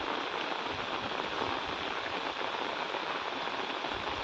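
Heavy rain falls on a village road, a dense, steady hiss that stays loud and even from start to finish with no voices.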